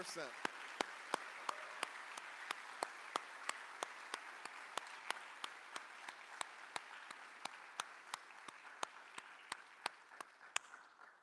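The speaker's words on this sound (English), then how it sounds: "Okay, now we can applause." An audience at a high school awards night applauds steadily and evenly, with sharp regular clicks cutting through the sustained clapping at close range.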